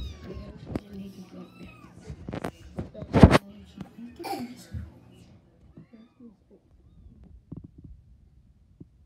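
A kitten meows a few times amid household noise and people talking nearby, with short high cries scattered through the clip.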